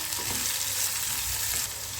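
Chopped onion and green chili sizzle steadily in a tempering with lentils in a pan, a continuous close hiss of frying with faint stirring.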